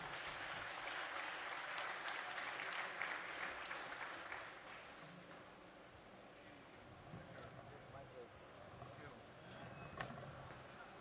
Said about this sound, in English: And applause.